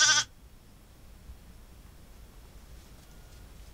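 A single short, loud bleat from a sheep or lamb on a livestock farm where black lambs and ewes are kept, followed by quiet background hiss.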